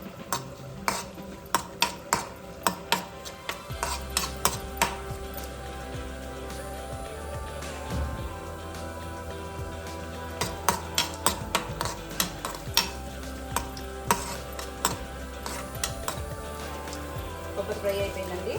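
Coconut pieces fry in hot oil during Indian bottle gourd curry cooking, with repeated sharp clinks of a spoon stirring against the pan over a steady sizzle; a voice talks now and then.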